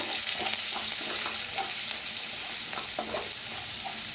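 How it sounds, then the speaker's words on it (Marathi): Ground masala paste with coriander roasting in oil over a low flame, giving a steady close sizzle and frying crackle throughout with occasional stirring scrapes, no talking. "आता जी वाटण बनवून घेतलं होतं ते तेलात छान असं भाजून घ्यायचं, गॅस कमी करूनच भाजा।"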